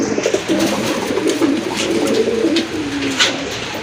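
Racer pigeons, large-sized pit racers offered for sale, cooing steadily in a soft low warble, several birds close by with overlapping calls throughout.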